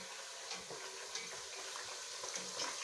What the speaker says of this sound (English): you keep on stirring, but gently, so as not to break them